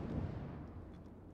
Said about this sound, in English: We heard that explosion.